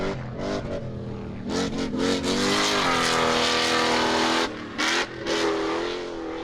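A Hellcat V8 in a mid-engine Ultra4 build revs hard through custom headers, rising to a high, exotic-sounding wail, holding, then dropping off in short blips before climbing again, loud and close.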